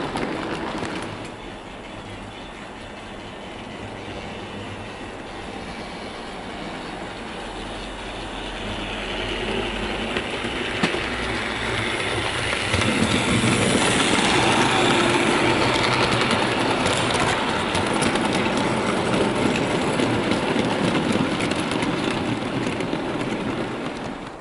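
Oxford Rail model train with a Howitzer railgun wagon running on a layout, a steady mechanical whirr and rolling rumble that grows louder partway through and carries on continuously with no talk.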